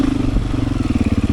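A Beta 500 dirt bike engine revs close by in a quick, pulsing burst, throbbing and clattering at a steady mid-range pitch.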